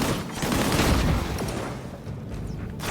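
Rapid bursts of gunfire from the video game Disintegration, a dense, continuous fusillade of shots with booming impacts filling the whole stretch, loud and close with no talking.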